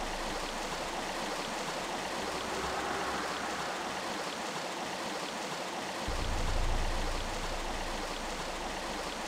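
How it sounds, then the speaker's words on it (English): Flowing water in the Tomb Raider game's Peru level, a steady full rushing stream like a waterfall that runs continuously, with a deeper low swell near the end and no talk. "I hear water."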